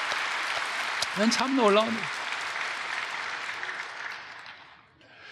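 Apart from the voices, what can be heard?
congregation applauding in church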